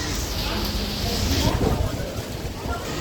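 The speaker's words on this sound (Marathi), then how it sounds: "तर या बीच स्टेशनवर मस्त पाऊस पडतोय बघा" Steady, dense hiss of heavy rain pouring down on a beach in Singapore, mixed with gusty wind buffeting the microphone.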